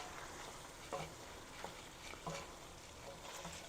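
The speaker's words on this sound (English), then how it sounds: "turn off the heat, and we're going to go ahead and stir this" Pork stirred in its reduced juices in a pan off the heat for poblano pork tacos, giving a steady low sizzle with a few soft scraping strokes of the spoon, faint and close.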